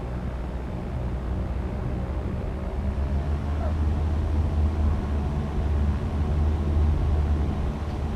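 Aircraft engine in a flight simulator game throttling up for takeoff, a steady broadband rumble and drone that holds loud and constant throughout with a slight swell toward the end.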